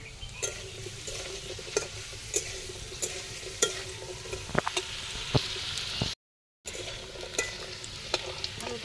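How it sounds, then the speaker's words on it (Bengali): Potatoes fry in a pan with steady sizzling, punctuated by repeated clicks and scrapes of stirring, close and moderately loud throughout, with a brief gap of silence near the end. "ওদিকে আমার আলুটা ভাজা হয়ে যাচ্ছে"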